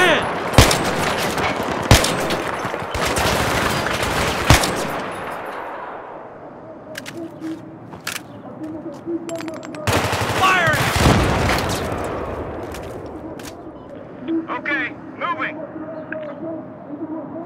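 Rapid bursts of automatic rifle fire and single shots crack out in a Battlefield 3 street battle, loud and dense at first, then thinning to scattered distant shots while voices call out between them.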